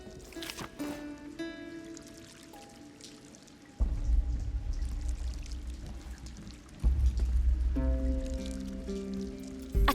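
Water laps and pours around a rope-pulled ferry boat in a video game as it is cranked across the water, with low swashing surges returning in a couple of heavier waves over faint background tones.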